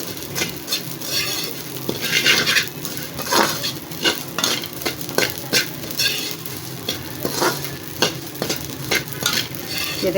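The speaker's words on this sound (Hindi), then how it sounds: "ये जब भून जाती है ना, ड्राई फ्राई हो जाती हैं" Ingredients for panjiri are dry roasted in a pan, with continuous sizzling, scraping and stirring and the repeated clink of a utensil against the metal pan, steady and close throughout.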